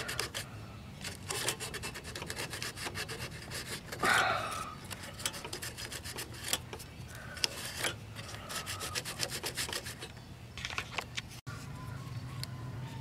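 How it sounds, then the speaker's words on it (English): Abrasive rubbing scrapes rust off the magnets of a Troy-Bilt self-propelled lawnmower with a 190cc Briggs engine, in quick irregular strokes close to the mic, with a few louder bursts and brief pauses and no speech. "I'll get the rust off the magnets."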